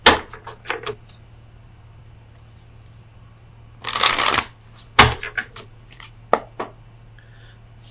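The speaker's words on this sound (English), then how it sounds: "let me get you an oracle card from the Oracle of Visions" A deck of oracle cards being shuffled close by, quick flicks and riffles with one dense burst of shuffling in the middle and lighter card taps around it.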